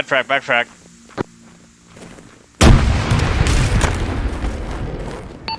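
A fragmentation grenade goes off in the military shooter Arma 3 as a sudden, heavy, close blast with a long rumbling tail, following a stretch of quieter game sounds and short beeps.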